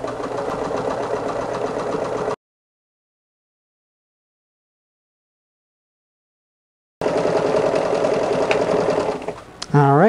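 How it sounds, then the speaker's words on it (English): A sewing machine stitching grid lines on a beginner's quilt, loud and close with a steady mechanical whir, cutting out to silence for several seconds before starting again. "now you've sewn the first two lines of your grid"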